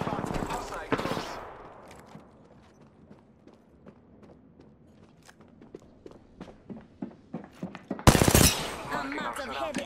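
Rapid bursts of gunfire in the battle royale shooter Apex Legends, with sharp repeated shots and footsteps, louder bursts at the start and near the end amid in-game chatter.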